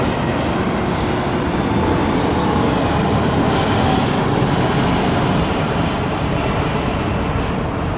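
An airplane departing Heathrow Airport with its landing gear retracting, a loud, steady broadband engine roar filling the whole stretch without letup.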